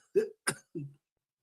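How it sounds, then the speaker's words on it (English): A man coughs three times, each cough short, sharp and separate, after choking on gas, heard close and alone with silence between them and after. "I done coughed up all the gas, bruh. I done choked on the gas."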